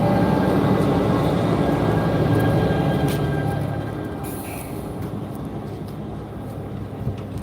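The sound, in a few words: Bombardier locomotive of an exo commuter train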